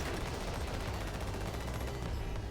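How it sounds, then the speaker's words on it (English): Turret fire from a video game rattles off in one dense, continuous burst, loud and steady from start to finish with no talking. "Almost did not hear that turret pop up."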